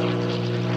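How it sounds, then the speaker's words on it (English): A small propeller airplane drones overhead at a small rural airport in Llano, Texas, a steady engine hum heard only for a brief moment without voices. "that is the plane right there"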